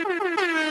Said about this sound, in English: did you hear the air horn go off?